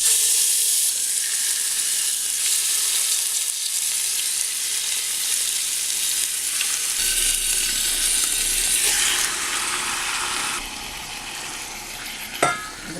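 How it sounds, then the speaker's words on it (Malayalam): Masala-marinated chicken fries in hot oil for a biryani, a loud steady sizzle and hiss throughout, with a brief metallic knock near the end. "ഇതിലേക്ക് നമ്മൾ നേരത്തെ മസാല പുരട്ടി വെച്ചിരിക്കുന്ന ചിക്കൻ ഇടാം."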